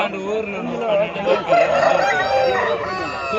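A rooster crows loudly and close at a Sunday poultry market, its long strained call stretching over a few seconds amid other poultry noise and a murmur of voices.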